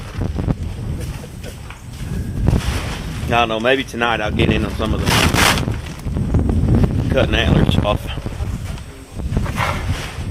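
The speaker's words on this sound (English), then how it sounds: "It is windy" Wind rumbles and buffets the microphone throughout, with people talking over it outdoors on a ranch.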